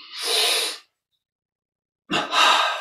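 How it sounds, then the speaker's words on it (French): Two loud, close breaths drawn in through the nose during a Kriya Yoga breathing exercise, the first short and the second after a silent pause, with no talking. "Double inspire, on contracte tout."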